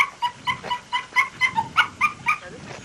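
A dog at a dog show lets out a rapid series of high, thin whimpers and yips, about a dozen pulses in under three seconds, close by and clear with no talking over them.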